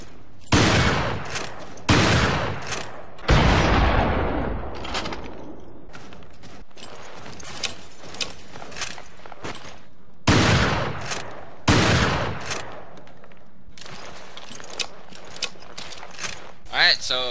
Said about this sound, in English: The first one is the Windham, the basic shotgun of Resident Evil Revelations.